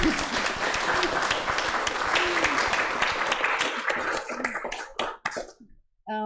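A crowd applauds with dense, steady clapping for several seconds, then it thins out into a few scattered claps and fades to near silence.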